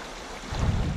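River water sloshes and surges around someone wading through it during a canoe expedition at the headwaters, a short close swell of low rushing water.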